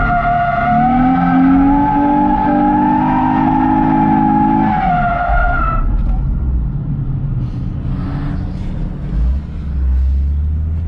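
Race cars at a Lime Rock track day skid and squeal their tires through a long, loud slide, engines droning beneath, then the screech cuts off, leaving lower engine rumble and road noise.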